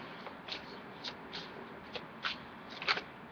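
A deck of goddess oracle cards being shuffled by hand, with soft papery riffles and flicks arriving in irregular bursts, close and quiet, with no talking.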